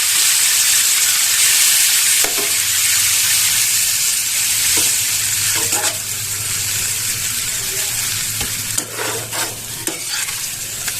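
A spice paste with turmeric, chili powder and a splash of water fries loudly in a pan. Bright sizzling hiss runs continuously, with intermittent stirring scrapes throughout.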